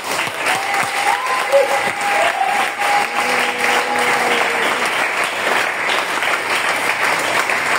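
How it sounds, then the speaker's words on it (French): A church congregation claps loudly and steadily throughout, a dense sustained applause with cheering voices mixed in, filling the room. "ce matin, acclame le Seigneur très fort."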